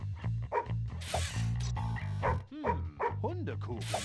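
Repeated barks and yips from a dog in Madagascar: Escape 2 Africa sound over game music, mixed with a cartoonish character voice and a few high squeaky whimpers.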